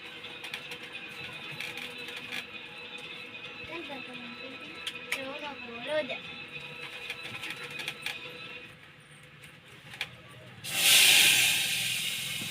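Asafoetida and spices being tempered in hot oil for drumstick kadhi in a village kitchen: a low steady hiss with a voice talking, then a sudden loud sizzling burst near the end.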